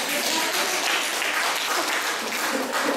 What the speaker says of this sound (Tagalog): Pumalakpak nga po yung mga tinamaan.